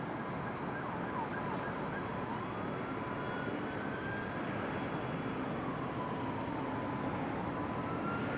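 A Delta jet takes off from runway 24 left at LAX, its engines making a steady, broad roar. The roar stays fairly distant and even throughout, with a faint rising whine layered over it.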